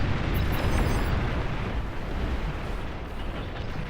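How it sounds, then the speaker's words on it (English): Continuous rumbling barrage of bomb explosions from defensive bombing in the Beyond All Reason strategy game, a dense, steady roar of overlapping blasts with no distinct gaps. "Hearing bombing, but it's defensive bombing."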